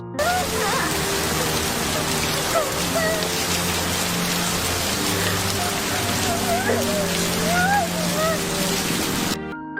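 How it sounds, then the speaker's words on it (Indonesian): Heavy rain pours steadily and loudly throughout, a dense constant hiss of drops striking surfaces, with soft music and faint voices running underneath. "Hujan semakin deras."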